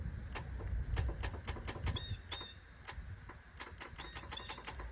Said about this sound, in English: That is me bypassing the relay and the electronics in the vehicle to kick on the AC compressor